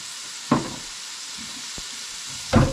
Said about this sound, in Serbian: I sada se to lijepo prži.